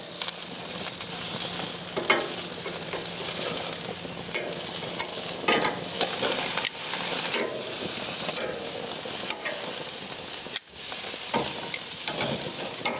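Pork chops sizzle and hiss on a hot grill as they are turned, a steady close frying crackle with brief scraping bursts and no voices.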